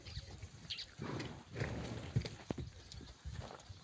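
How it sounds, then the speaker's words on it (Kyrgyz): Horses, mares and foals move about nearby, giving off irregular hoof clip-clops and shuffling thuds at a low level, with a faint whinny-like sound among them. "Мына быйылкы кулундары."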